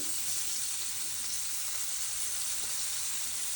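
Chopped scallion hits a hot pan of oil and sizzles in a loud, continuous, bright hiss that holds steady the whole time, close up with no pauses.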